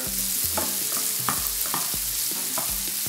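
Onion sizzles steadily in a hot frying pan while a utensil scrapes and stirs it in a loose, repeated rhythm.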